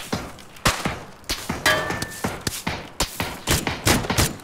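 A rapid series of sharp gunshot bursts in a video game, irregularly spaced and fairly loud, fired in quick succession like a firefight.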